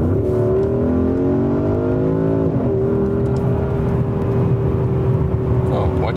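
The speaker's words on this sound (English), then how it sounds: "Another acceleration here in the woods. You can enjoy the sound once more and this acceleration together with us." A Porsche Cayenne Turbo Coupé accelerates hard on a wooded road, its engine a loud, continuous growl climbing through the revs with a brief shift midway, heard close up from inside.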